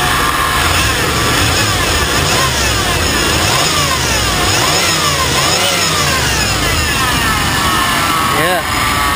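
A truck engine runs steadily and revs up and down through the whole stretch, loud and close, with a faint whine in the mix and scattered voices underneath.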